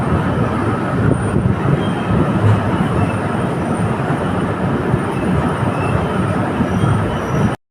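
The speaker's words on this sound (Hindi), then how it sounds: "सामने खड़ी है अहमदाबाद बरौनी एक्सप्रेस" The Ahmedabad Barauni Express at Barauni station produces a loud, continuous rumble of rolling wagons and wheel noise, close and steady throughout before cutting off abruptly at the end.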